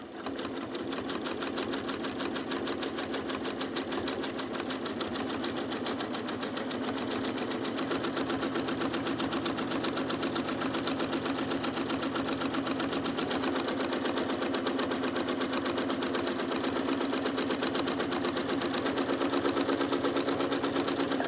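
A sewing machine doing free motion quilting, running continuously at a fast, even stitching rhythm with a steady mechanical hum, close and unbroken throughout.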